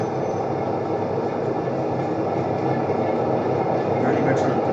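A train departs a station in a video game, giving a steady, continuous rumble of rolling wheels and engine that holds at an even loudness throughout.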